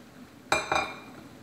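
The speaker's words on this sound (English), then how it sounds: "now I'm going to mix all of this together" A utensil stirs a marshmallow and chocolate mixture in a pot, giving two quick, close metallic clinks about a fifth of a second apart over quiet background.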